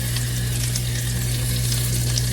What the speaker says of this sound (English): Get all 4 pieces in, and we're going to sear them off on one side, flip them over.